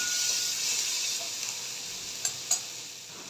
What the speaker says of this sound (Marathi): हा देखील 1 मिनटं कांद्यासोबत परतू द्यायचा.